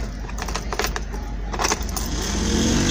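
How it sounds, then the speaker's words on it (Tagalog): Car keys jangle in a metallic, irregular rattle as a key goes into a vehicle's ignition, close and fairly loud over a steady low engine-bay hum during a pre-drive check. "Lagay natin yung susi."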